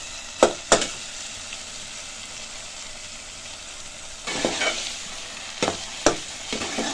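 Ghee tempering sizzles steadily in a pot of Punjabi sarson ka saag, with a few sharp scraping clacks of stirring and a louder burst of frying partway through.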